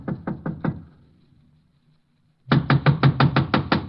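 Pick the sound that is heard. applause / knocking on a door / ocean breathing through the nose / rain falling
knocking on a door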